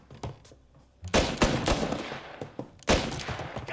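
Gunfire in the video game Mafia, 1930s mobster shootout: clusters of sharp, loud shots and rapid bursts crackling in quick succession, with brief quieter gaps between volleys.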